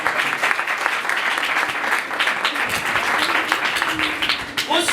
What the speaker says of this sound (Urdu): آئے یسوع کے لہو کے لیے زوردار تالیاں۔